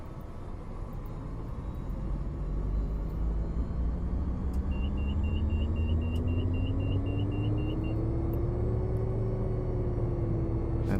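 Helicopter rotor spinning up under added throttle in a flight simulator game, a low rumbling engine drone that gradually rises in pitch and loudness, with a brief electronic beeping partway through and no voices.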